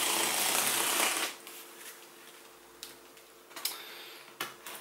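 Unboxing the packaging of a Philips Hue Beyond LED ceiling light, a burst of rustling followed by quieter handling, scattered clicks and light taps up close.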